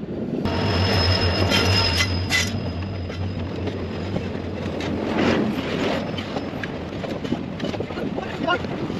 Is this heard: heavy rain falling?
no